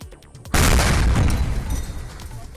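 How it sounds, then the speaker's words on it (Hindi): Security forces set off a controlled detonation of a grenade found in Kangra, Himachal: a single sudden, loud boom after a brief quiet lead-in, followed by a long rumbling decay. "हिमाचल के कांगड़ा में मिले ग्रेनेड को सुरक्षा बलों ने धमाका कर नष्ट किया।"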